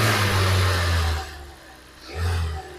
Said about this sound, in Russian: прошло пару минут, и мотор, смотрите, как успокоился